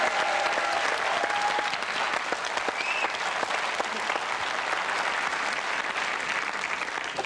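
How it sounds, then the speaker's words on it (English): A studio audience applauds at a TV show, a dense, steady wash of clapping that holds loud and even for several seconds. "That deserves a round of applause, by the way."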